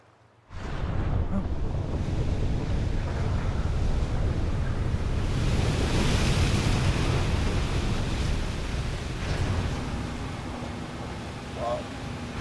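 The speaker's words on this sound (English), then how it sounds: "The rain." Steady, dense rain hiss, loud and close, rises abruptly after a brief quiet start and holds with little change, thinning slightly near the end.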